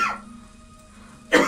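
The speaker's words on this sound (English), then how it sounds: "I'm gonna cough my lungs out" A burst of harsh coughing, cut off at the start and returning loudly near the end, close to the mic after a quiet pause with a faint steady hum.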